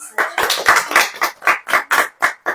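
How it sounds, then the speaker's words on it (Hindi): A congregation at a Hindi-language church sermon claps hands together in a steady rhythmic beat, about ten sharp, even claps close and loud with no talking over them. "अब ताली बजाओ।"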